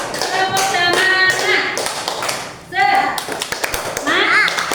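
Fifth-grade classroom giving a rhythmic encouragement clap, tepuk semangat, for a student, sharp claps in patterned bursts under children's and a teacher's voices chanting along.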